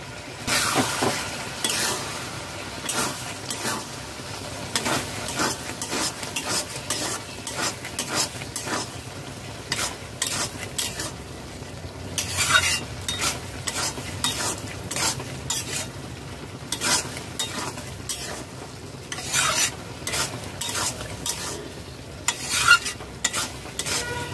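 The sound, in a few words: stirring ghee and biryani masala in a pan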